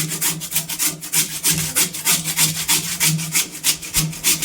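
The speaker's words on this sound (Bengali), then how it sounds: "এই গ্রেটারের মাধ্যমে কিন্তু আলুটাকে এইভাবে ছলে নেব" Raw potatoes scraped against a hand grater in a home kitchen, a steady rapid run of rasping strokes, close and fairly loud, with no voices.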